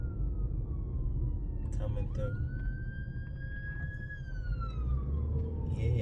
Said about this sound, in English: Get this ambulance